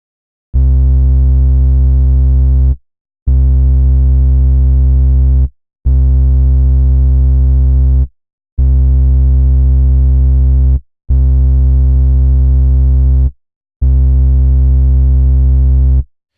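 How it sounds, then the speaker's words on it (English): Synth tone played through the internal distortion of Bitwig Studio's Polysynth: six sustained, loud, buzzy harmonic-rich notes, each about two seconds long with short silent gaps between, no voices. "So this is a distortion when it's inside of the Polysynth."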